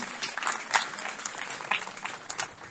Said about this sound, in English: So a huge round of applause for the Women Power of Red Rose Senior Secondary School.